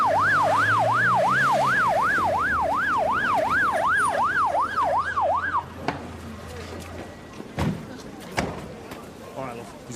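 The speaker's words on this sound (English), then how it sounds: "now that'll be the ambulance." An ambulance siren wails loudly in steady, rapid up-and-down cycles as it arrives at a house, then cuts off after about six seconds, leaving quieter knocks and movement.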